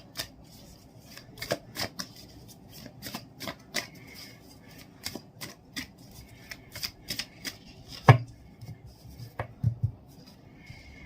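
Cards of an Everyday Witch Tarot deck, which includes reversals, are shuffled in a steady run of crisp riffling flicks and taps, close and fairly quiet, with no talking over them.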